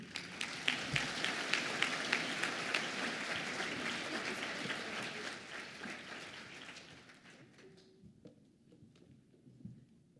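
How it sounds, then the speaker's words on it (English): Sustained applause from a large audience at an awards gala, loud and dense for several seconds, then thinning out and fading to scattered claps near the end. "Another round of applause"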